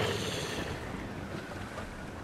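A sailing ship rides the ocean waves in Assassin's Creed IV Black Flag, with a steady wash of surf, water rush and wind, moderately loud and unbroken, without talk.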